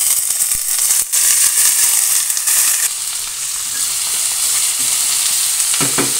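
Cabbage and garlic fry in hot oil in a pan, a loud, close, continuous sizzle with scraping stirring strokes and a few light knocks of the utensil.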